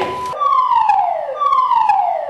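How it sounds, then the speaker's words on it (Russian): Alarm siren on an offshore platform during an evacuation drill: a loud wailing tone sweeping downward in repeated cycles, close and without talk, after a brief burst of other noise at the start. "Неожиданно звучит сигнал тревоги."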